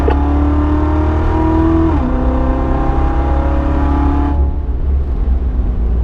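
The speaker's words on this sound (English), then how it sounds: "Add the throttle in up to fifth gear." A race car on a track pulls hard through the gears up to fifth, topping out near 119 mph. The engine drones loud and close, with a brief dip and pitch drop at a shift before it climbs again and then eases off.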